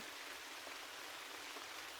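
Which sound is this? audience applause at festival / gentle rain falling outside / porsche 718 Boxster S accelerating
gentle rain falling outside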